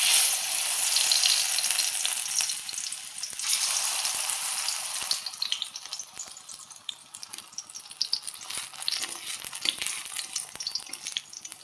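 Marinated pieces sizzle steadily in hot oil in a pan, a close, continuous crackling hiss that stays loud for the whole stretch with small pops and no talking.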